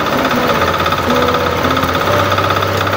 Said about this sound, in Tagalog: testingin natin yung bagong makina na ikinabit natin. Yan, ayos naman mga idol, gumagana.